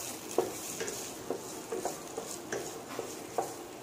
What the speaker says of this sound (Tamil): இப்போ நம்ம இத நல்லா வதக்கிக்கலாம்.